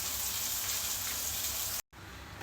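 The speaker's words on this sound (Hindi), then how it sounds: "दर्शकों जी, पूरी तरीके से बारिश हो गई है।" Steady rain hisses down outdoors in Arunachal, a dense and even wash that cuts off briefly near the end and then comes back a little softer, with no talking.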